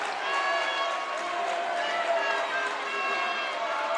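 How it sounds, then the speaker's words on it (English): Prairie Hills Mustang fans in a crowded gym at an IESA 8th grade boys basketball state final raise a steady, swelling roar of cheering and chatter, with sneaker squeaks and a commentator talking over the noise. "the Prairie Hills Mustang crowd right behind us starts to make a little noise"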